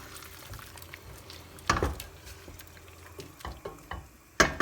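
Water bubbles and sizzles off over full heat in a lamb and bitter gourd casserole, a soft steady simmer broken by a few sharp clatters and scrapes nearby.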